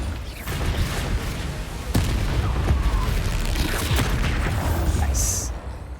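A Bombarda spell explosion in the video game Hogwarts Legacy, a sudden loud boom partway through that rises out of steady, rumbling in-game battle noise.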